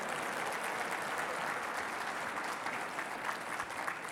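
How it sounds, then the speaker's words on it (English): Audience applause at a safety summit plenary session for Gord Wainwright, a dense, steady wash of many hands clapping at moderate volume throughout, with no talk over it. "I'd like to give him a round of applause"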